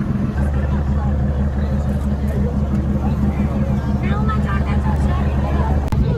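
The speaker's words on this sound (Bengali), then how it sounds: "এই যে বোট চলছে, আমাদের বোটের পাইলট স্যার" A ferry boat crossing to Bet Dwarka in Gujarat, its engine droning in a steady low rumble from start to finish while birds flock around the vessel, with people speaking over the motor noise.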